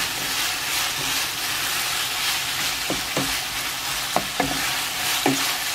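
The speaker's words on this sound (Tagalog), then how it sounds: "lutuin natin ito guys hanggang makover siya ng oil" Gapao rice ingredients stir-fry in hot oil with a continuous close sizzle, while a spatula scrapes and clacks against the pan in a few separate knocks.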